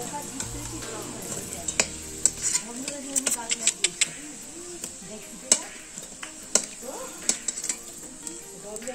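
Potatoes fry and get stirred in a pan over a charcoal fire, with steady sizzle, sharp metallic scrapes and clinks of the utensil repeating throughout, at close range.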